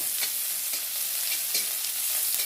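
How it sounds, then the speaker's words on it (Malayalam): Chopped shallots fry in hot coconut oil for avilappam, giving a steady, bright, hissing sizzle with faint crackles and soft stirring scrapes throughout. "വെളിച്ചെണ്ണ ചൂടാകുമ്പം കുറച്ച് ചുവന്നുള്ളി അരിഞ്ഞത്"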